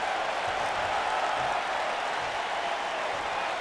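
An arena crowd in the WWE 2K19 wrestling game roars as one steady, loud wash of cheering that neither swells nor fades.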